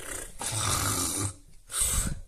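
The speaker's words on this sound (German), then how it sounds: "Der schläft. Ernsthaft. Und er schnarcht." Snoring from a sleeping animal indoors, two long rasping breaths close to the microphone with a brief quiet gap between them.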